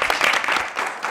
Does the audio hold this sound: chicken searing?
no